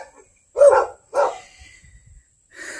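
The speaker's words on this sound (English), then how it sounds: "5 big dogs" Several large dogs bark from up in a yard where high grass is being mowed, two loud separate barks close together followed by softer distant noises and another bark at the end, with no talking.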